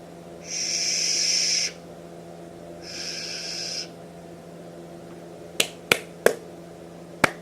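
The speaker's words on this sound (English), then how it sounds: "See the claps picking up." Four sharp hand claps ring out in quick, uneven succession near the end, following two sustained tonal tones over a faint steady hum from a fan in the room.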